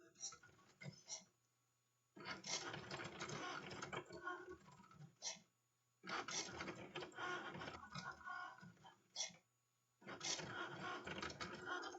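A Cricut Maker cutting machine slices vinyl in repeated bursts of mechanical whirring and carriage movement a few seconds long, broken by short quiet pauses. The machine is close and moderately loud, with no talk.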